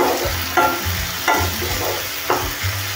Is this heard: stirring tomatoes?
yes